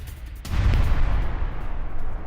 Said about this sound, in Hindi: यूक्रेन के सैन्य ठिकानों पर रूस का मिसाइल से हमला।